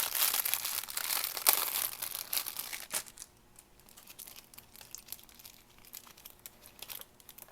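Crinkling of a small plastic pack of stickers being handled, crisp rustling for the first three seconds, then softer, sparse crackles and taps, close and quiet with no talking.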